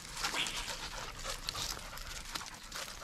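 A hunting puppy out on a mission pants rapidly and lets out soft whimpers, close and continuous in a noisy outdoor setting, with no clear talk during the sounds.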